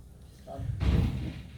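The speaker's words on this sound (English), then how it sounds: "maybe now we close the door" A door swings shut with a single dull thud in a quiet room, followed by a brief rumbling decay, with a faint voice-like murmur around it.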